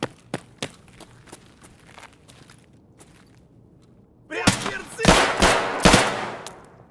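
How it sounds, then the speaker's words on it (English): A suppressed ADAR rifle fires in the video game Escape from Tarkov: a few scattered muffled shots, then a loud rapid volley of close gunfire near the end. "Y'all know what a suppressed ADAR sounds like anyway."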